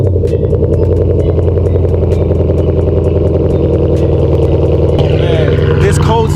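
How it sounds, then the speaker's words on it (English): A loud 2014 Ford Mustang engine turns over on a cold start and roars to life, then runs with a rough, rapid rumble and clatter close by. "this cold start is definitely louder than the last one"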